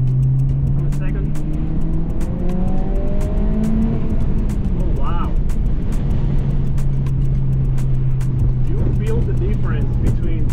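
A tuned 2022 Honda Civic 11th gen with a Stage 1.5 tune pulls hard under acceleration, its steady engine drone rising in pitch over about ten seconds, loud and continuous, with a person talking over it.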